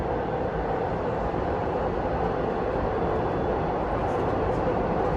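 Inside a Toronto TTC Line 5 Eglinton LRT train running under manual control, a steady dense rumble of wheels and motor fills the car evenly throughout, with no talk.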